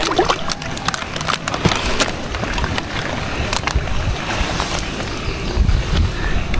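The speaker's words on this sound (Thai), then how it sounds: "โอ้น้ำไหลแรง" Floodwater flows strongly through a flooded orchard garden, a constant rough rushing noise with wind buffeting and scattered knocks close to the microphone.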